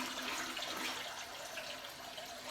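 Tap water runs steadily into a bathroom sink during a straight-razor wet shave with Speick German shaving cream, a soft, continuous hiss that stays even throughout with no voices.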